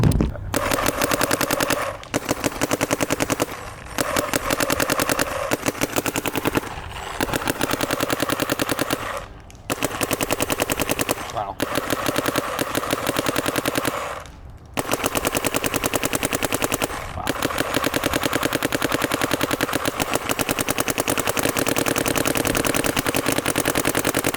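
A Planet Eclipse 180r paintball marker fires long, rapid strings of shots in a dense, loud mechanical rattle, broken by several short pauses between bursts.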